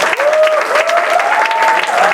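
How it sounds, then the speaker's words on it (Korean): A youth retreat audience at a church gathering claps loudly and continuously, with a few whoops and raised voices riding over the applause. "우리 임원들에게 박수 한번 부탁드립니다."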